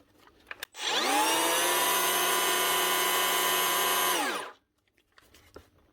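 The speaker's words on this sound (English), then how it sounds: "That's how you fix up a Makita cordless planer." A repaired Makita DKP181 18V cordless planer spins up and runs at a steady, loud whine for about three and a half seconds, then winds down, with a few light knocks before and after.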